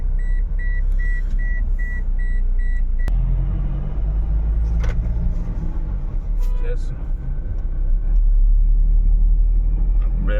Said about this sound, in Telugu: కొంచెం ట్రాఫిక్ తగ్గిపోయింది వెహికల్ స్పీడ్గా మూవ్ అవుతున్నాయి